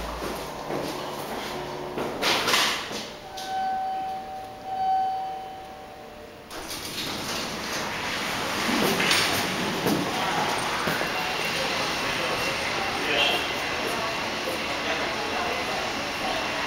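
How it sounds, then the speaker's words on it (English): Large Schindler elevator doors at an IKEA store in Richmond, B.C. slide closed with a rushing mechanical sweep, preceded by a short chime and some knocks, then a steady hum of the moving car. "Doors closing."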